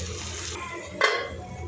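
A metal lid set onto a cooking pan with a single clear clank partway through, over a steady low kitchen hum.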